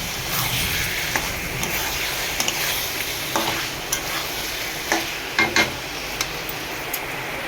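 Prawns sizzle and crackle steadily in a hot pan of oil in a home kitchen, with a few louder pops and spatters standing out near the end. No one speaks.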